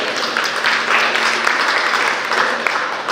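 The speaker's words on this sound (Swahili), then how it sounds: "Haya makofi, sidhani kama ulishawahi kubarikiwa mahali hapa." A church congregation applauding, a dense wash of many hands clapping at once, fairly loud and steady throughout, with a faint tone held under it.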